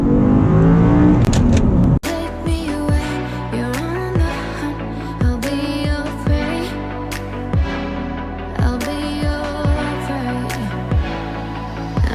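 Audi R8 V10 with a gated manual transmission accelerating hard from inside the cabin: the engine revs climb again and again, broken by repeated gear-shift dips, loud and close throughout with no talking.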